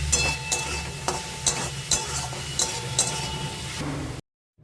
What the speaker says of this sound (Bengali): শাকটা কিন্তু সেদ্ধ হয়ে যাবে, ভাজা হয়ে যাবে